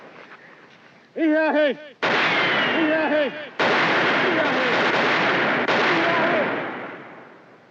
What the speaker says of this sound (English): Tell him to stop firing.